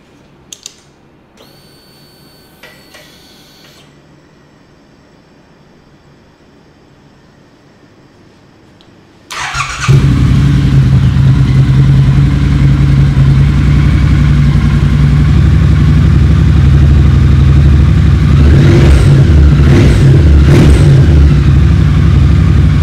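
A custom motorcycle engine fires up after a quiet stretch with some faint clicks, then runs loud and steady, with a couple of sharp revs near the end.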